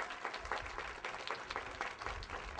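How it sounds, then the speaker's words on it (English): Applause from a seated audience at a public library branch reopening celebration, steady dense clapping that stays faint and distant for a few seconds. "So a big round of applause to Luis Herrera"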